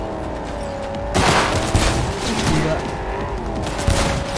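Gunfire from Cyberpunk 2077 goes off in rapid, loud bursts that start abruptly and keep cracking, with a few sharper shots standing out near the end. A voice briefly exclaims over the shooting.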